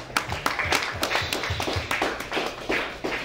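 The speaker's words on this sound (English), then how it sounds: "Can we give him a round of applause" Audience applause for a tribute to Rico Wade rises as a dense run of claps and taps from a crowd, spread over a few seconds with some louder individual claps, and no voices on top.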